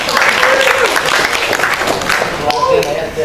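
Audience applause during a spoken lecture, a loud crowd of clapping hands mixed with voices and cheering, close and continuous for the whole stretch.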